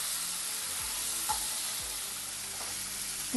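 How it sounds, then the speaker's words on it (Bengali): Pieces of pumpkin frying lightly in oil in a pan for a Bengali prawn and pumpkin dish, giving a steady close, loud broadband sizzle with a few soft knocks of stirring and no voices. "কুমড়োটা একটু হালকা করে ভেজে নেব।"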